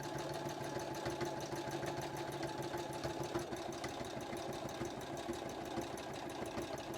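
Steady, fast mechanical whir of a sewing machine stitching the shoulder seams of a kimono jacket, continuous and even throughout, moderately quiet with no talk.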